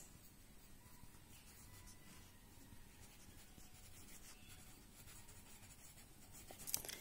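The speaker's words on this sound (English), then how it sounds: "You underline some important words and write there" Pencil writing on paper, underlining words and filling in blanks, makes a faint, continuous soft scratching and rubbing close by, with a small tap near the end.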